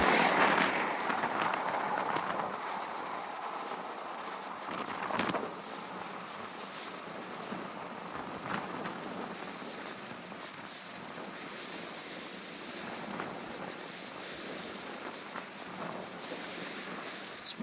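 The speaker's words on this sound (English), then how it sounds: "this is some of the worst wind full on the wall I've had for a long time" Strong wind gusting across an open beach on a cliff walk, roaring steadily as broadband wind noise buffets the microphone throughout, with a few sharper gusts and no speech.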